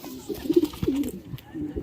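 Kaki pigeon chicks and adult pigeons give soft, low coos in a few short bursts, close and fairly quiet, with a faint voice in the background.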